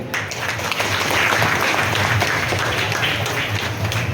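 An audience at a Mumbai alumni and village development association's annual gathering breaks into hearty applause, a dense, sustained wash of many hands clapping throughout, with no talking over it.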